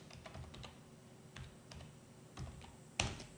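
Quiet typing on a computer keyboard while entering a spreadsheet formula, a few scattered soft key clicks with one sharper final keystroke, close and alone.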